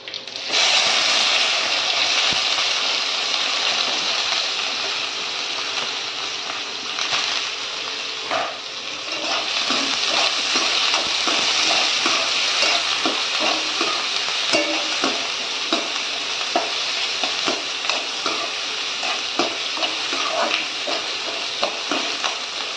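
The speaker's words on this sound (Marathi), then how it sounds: "कांदा चांगला भाजून घ्यायचा आहे आपल्याला" Finely chopped onions sizzle and fry steadily in a hot pan for a Maharashtrian kartoli (spiny gourd) bhaji, with frequent scraping stir strokes from a spoon cutting through the continuous close, loud hiss.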